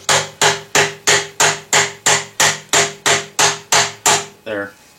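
Hammer tapping to seat fasteners: about a dozen sharp, evenly spaced metallic blows close by, followed by one softer final tap, with no voices.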